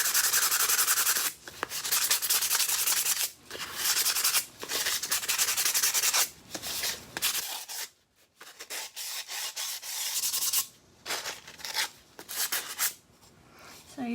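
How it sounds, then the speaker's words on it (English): A white-washed terracotta pot is scrubbed with 80 grit sandpaper in close, loud, rhythmic rasping strokes, broken by short pauses and a few quieter gaps. "sand some of that off."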